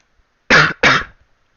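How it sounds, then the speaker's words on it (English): Two sharp, close coughs in quick succession, loud and harsh, with silence before and after. "sorry about the cough"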